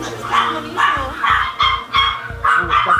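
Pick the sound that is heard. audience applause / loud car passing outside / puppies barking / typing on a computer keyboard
puppies barking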